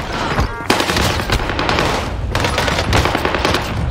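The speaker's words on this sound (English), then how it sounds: "The Hipfire PPSH is meta on Rebirth Island." Rapid hip-fire bursts from a PPSh submachine gun in a Rebirth Island video-game match, loud and dense, in sustained stuttering volleys with brief gaps, layered with other gunfire.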